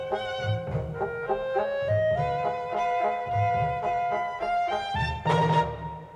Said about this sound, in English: That's the sound of Stravinsky